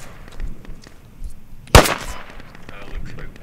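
A single sharp gunshot cracks out loud and close in the forest combat game Squad, while quieter distant shots and low battlefield rumble sit beneath the players' voice chat.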